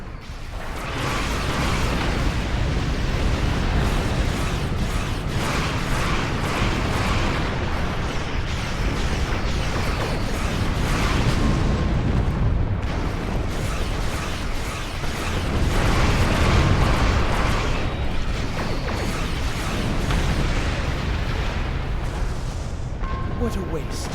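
Torpedo spread fired in a Star Trek space combat game against Jem'Hadar ships, a continuous barrage of loud booming blasts and rumbling detonations running throughout, with dense layered explosions and a voice speaking over the battle.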